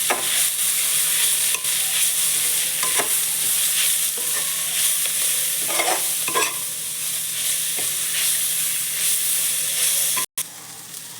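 Moong dal and drumstick leaves fry in a pan with salt, turmeric and coriander powder, giving a steady close sizzle with occasional stirring scrapes and no talk.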